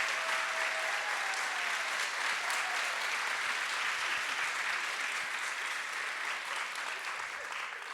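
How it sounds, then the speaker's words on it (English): Sustained audience applause at a That's What She Said evening event in Chicago, dense steady clapping filling the room at full strength throughout, tapering only slightly near the end, with a brief whoop early on. "Would you give them a quick round of applause?"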